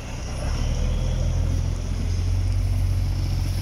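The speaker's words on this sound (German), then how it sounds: "im Hintergrund hört ihr die Traktoren" Tractors driving around a muddy Wacken Open Air festival campground, a steady low engine rumble and drone filling the background throughout, fairly loud and continuous with no speech.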